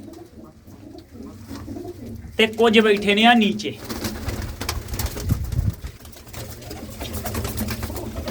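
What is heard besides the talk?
pigeons cooing in a loft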